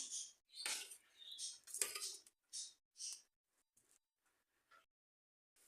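Several bright metallic scraping clinks of a spoon stirring borscht in a pot, bunched early then thinning to a few faint taps with quiet gaps.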